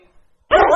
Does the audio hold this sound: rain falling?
no